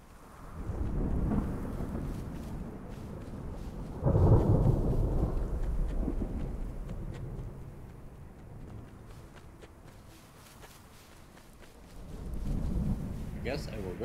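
Storm rolling in within the survival game Smalland: low rumbling thunder swells in several long waves across the scene, with a steady wash of rain noise underneath and a faint voice at times.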